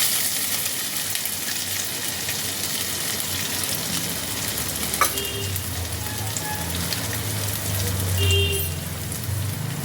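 Grated ginger sizzles steadily in hot oil in a pan while a Bengali doi potol is being cooked, a dense, even frying hiss that continues throughout with no talking.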